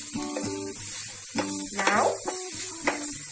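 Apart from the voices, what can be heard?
grated carrot and onion sautéing in pan for bottle gourd uthappam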